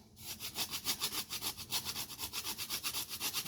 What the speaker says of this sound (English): And I like myself to add some nutmeg. Only grate some of that.